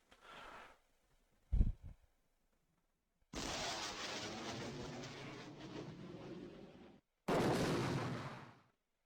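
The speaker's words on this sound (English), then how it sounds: "So we'll just send the airstrikes after them." Airstrike explosions in the strategy game Geo-Political Simulator 5: a brief thump and burst, then a long sustained roar of blasts and rumble, a short gap, and another heavy rumbling burst.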